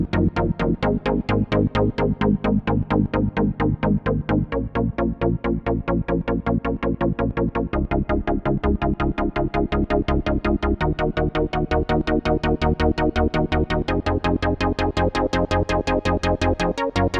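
Nord Wave 2 synthesizer running its polyphonic arpeggiator in poly mode, a fast even stream of plucky chord notes repeating steadily and clearly for the whole stretch, with no speech.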